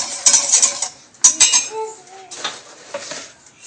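Sugar, milk and vanilla stirred with a utensil in a pot: close scraping and clinking strokes in short bursts, with a few sharp metallic taps against the pot.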